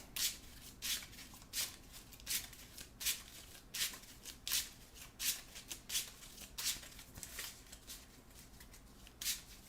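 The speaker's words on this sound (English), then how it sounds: "Let me shuffle these up." A deck of Marvel Champions game cards being shuffled by hand, a quiet close series of crisp riffling bursts repeating in a steady rhythm with short pauses between.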